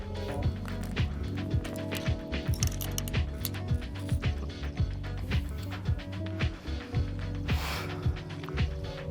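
A tonneau cover clamp on a Mazda B2200 pickup is tightened with a ratcheting tool, producing a rapid run of close metallic clicks and ticks in a steady rhythm, with faint mechanical rattles between strokes.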